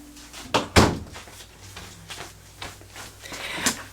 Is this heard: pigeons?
no